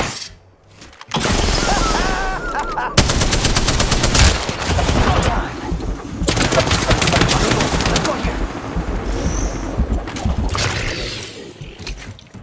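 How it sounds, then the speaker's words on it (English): Apex Legends gunfire crackles in several loud, rapid bursts with sharp single shots between them, and a player talks over the shooting. "They're shooting!"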